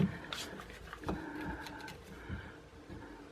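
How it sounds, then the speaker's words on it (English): Screws being driven into a plaster patch fitted in a drywall doorknob hole, heard as faint, close, uneven clicking and brief whirring bursts with scraping, quiet overall. "I'll pop a couple of screws to hold it in place."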